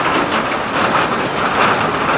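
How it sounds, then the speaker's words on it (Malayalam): Steady rain pours through a forest at Periyar, a dense, continuous hiss of drops on leaves and ground, close and loud with no voices. "കാടിനുള്ളിൽ മഴ പെയ്യുന്ന കണ്ടിട്ടുണ്ടോ?"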